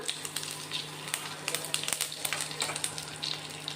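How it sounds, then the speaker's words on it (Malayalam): Curry leaves crackle and sizzle in hot oil after mustard seeds have popped, for a tuna fish pickle, a dense, steady spitting with sharp little pops scattered throughout, close and fairly loud. "കടു പൊട്ടി കഴിയുമ്പോൾ അതിലേക്ക് കറിവേപ്പില ഇട്ട് കൊടുക്കാം"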